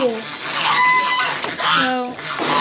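Farm chickens near a small water pool cluck and call at close range, a few clear, drawn-out vocalizations rising over a busy, noisy background.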